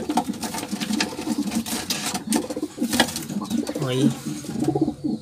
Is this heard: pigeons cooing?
yes